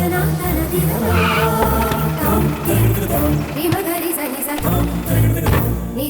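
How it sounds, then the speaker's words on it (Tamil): A car on a road braking to a stop, tyres skidding and squealing over engine noise, loud and close, with voices and background music mixed in. "டிரைவர் கொஞ்சம் வண்டியை நிறுத்துங்க."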